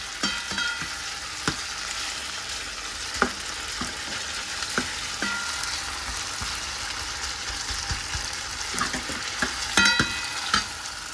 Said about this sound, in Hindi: अभी रोस्ट हो रहा है ये